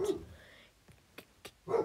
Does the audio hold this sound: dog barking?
yes